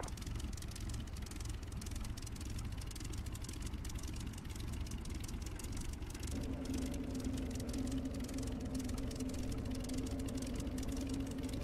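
Aircraft engine idling during refueling in the DCS flight simulator game, a continuous broadband rumble with a steady whine joining partway through, no talk.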